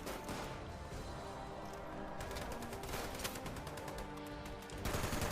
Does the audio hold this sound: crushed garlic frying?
no